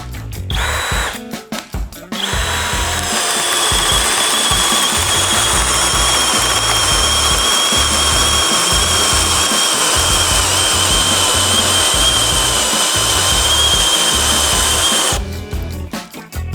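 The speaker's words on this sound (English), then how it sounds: "the drill bit cannot eject the wood chips out of the hole fast enough to allow the cutting head to do its job" A cordless hammer drill bores into wood, its motor whining steadily and loudly for about thirteen seconds after a few short stuttering bursts, then stopping and starting again at the end.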